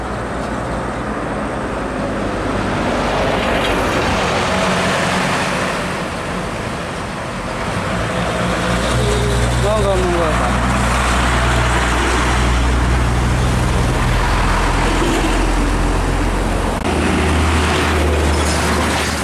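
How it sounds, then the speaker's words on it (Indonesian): An old Nissan Condor single-axle truck engine runs close by with a steady low drone that swells louder midway and continues over roadway noise. "Nissan Condor, engkel ya. Ini truk tua,"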